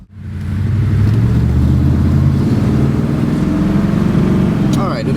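An AMC Matador coupe with a 401 V8 engine pulls away, its deep, steady engine rumble loud and close throughout, with someone talking over it.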